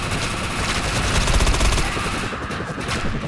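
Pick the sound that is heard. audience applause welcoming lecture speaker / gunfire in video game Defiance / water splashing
gunfire in video game Defiance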